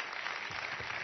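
A TV studio audience claps steadily throughout, a dense, continuous wash of applause with no pauses.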